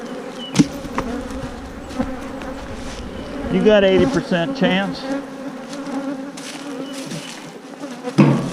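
Honeybees buzzing around hive boxes, a steady mid-pitched hum with louder swells as bees fly close, and a brief spoken remark partway through.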